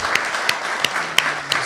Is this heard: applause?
yes